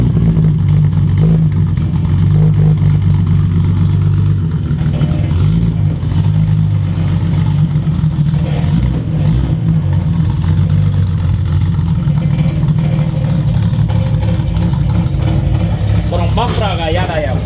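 A Datsun 240Z Fairlady Z S30 engine idles loud and near with a steady low rumble and slight revving, while people talk over it throughout.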